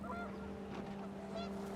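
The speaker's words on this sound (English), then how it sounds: "panicked geese appeared and quickly went" Panicked geese honk in What Remains of Edith Finch, a faint, steady flurry of nasal calls over low background hum, with no talking.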